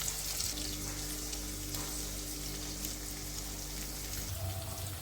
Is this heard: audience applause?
no